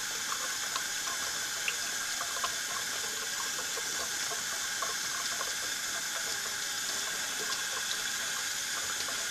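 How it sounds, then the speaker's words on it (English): Steady running water from a tap pours into a sink while a pistol barrel is being polished, a continuous even hiss with no talking. "I hope the water sound don't mess everything up."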